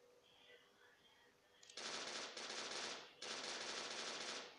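Automatic gunfire from the video game Crossfire: Legends comes in two loud sustained bursts, the second after a brief gap, following a quieter stretch of low background game noise.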